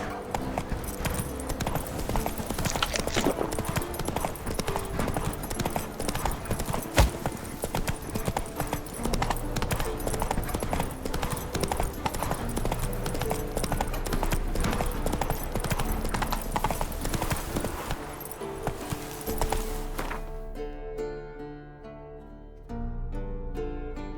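Hooves of Geralt's horse Roach clip-clop steadily at a brisk pace in The Witcher 3, mixed under a loud orchestral game score, with the music thinning near the end.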